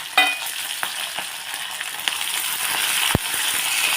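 Green chillies, curry leaves, garlic and cumin sizzle steadily in hot oil in a pan, a dense close hiss broken by a few crackles and one sharp pop, with no voices.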